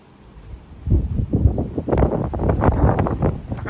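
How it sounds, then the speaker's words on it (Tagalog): Strong wind blowing outdoors, buffeting the microphone in rough low gusts that swell after a quiet start and keep roaring unevenly to the end, close and loud. "Lakas din ang hangin dito guys."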